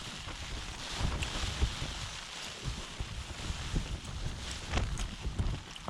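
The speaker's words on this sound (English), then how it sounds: "The wind's blowing a bit." Strong wind buffets a microphone at a rainy wild camp in Wales, roaring in uneven gusts with low rumbling thumps throughout and no voices heard.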